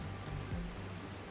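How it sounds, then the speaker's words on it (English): Steady, unending rain hisses across the slums in MDK Raincode, a constant soft wash of droplets with a faint low rumble beneath and no speech. "They don't seem to care one bit about the unending rain."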